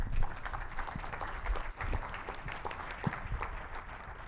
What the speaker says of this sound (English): please welcome with a warm applause